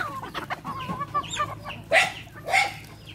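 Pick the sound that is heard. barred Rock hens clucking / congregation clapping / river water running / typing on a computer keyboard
barred Rock hens clucking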